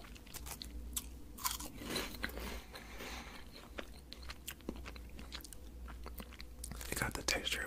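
Crunchy Japanese candy chewed close to the mouth: sharp crisp crunches and bites recur irregularly over quiet breathy background, growing busier toward the end.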